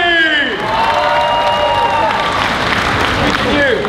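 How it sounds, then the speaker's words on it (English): A crowd at a cosplay show applauds and cheers loudly and steadily, with shouts and whoops rising over dense clapping for the whole stretch. "clap your hands, Kakashi!"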